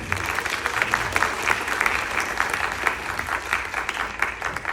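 A crowd gives a volunteer a round of applause at a science centre drone demonstration, steady dense clapping filling the room at moderate loudness.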